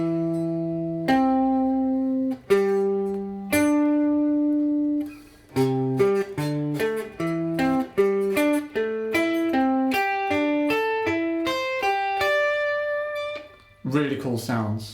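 A guitar plays a pentatonic skip exercise, single picked notes moving steadily up the scale in skipping intervals, clean and moderately loud, ending in a brief scrape.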